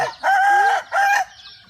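Hungry chickens at a grandparents' poultry yard give two loud, close, drawn-out calls in quick succession, each cut off cleanly, with a brief quiet after.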